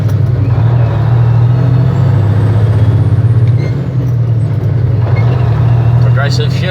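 An empty Kenworth truck's engine hums loud and close as the driver works up through the gears, a steady low drone with slight dips between shifts and someone talking over it.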